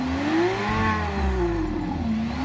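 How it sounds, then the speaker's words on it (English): A phone app plays a simulated 6-liter V12 engine, loud and close, revving up through a rising, swelling tone and then easing back down toward idle. "it comes with a starter pack that has the 6-liter V12"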